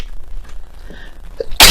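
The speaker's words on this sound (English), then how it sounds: "I just felt that sneeze come on" A single loud, sharp sneeze bursts out at the very end after a near-silent stretch, close to the microphone.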